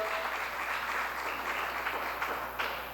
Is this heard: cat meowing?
no